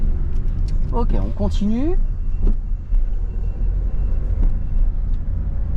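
Car pulling away and accelerating in second gear through an intersection during a driving lesson, steady engine rumble throughout under an instructor's and learner's conversation.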